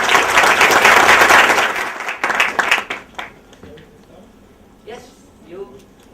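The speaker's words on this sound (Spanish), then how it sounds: "Un gran aplauso" A big burst of audience applause welcoming a scientist to a lecture, loud and dense at first, then thinning into scattered claps as it fades, with a voice starting to speak near the end.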